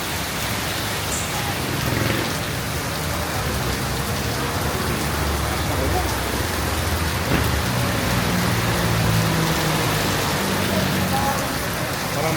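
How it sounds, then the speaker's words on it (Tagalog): Heavy rain pours steadily on a city street in Pasig City, Philippines, a thick, even hiss of drops spattering surfaces that stays loud and constant without a break. "Bakas ang ulan."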